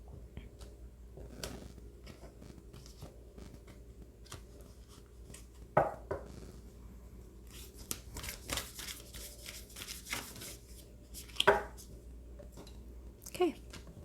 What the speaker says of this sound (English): I need to cut the deck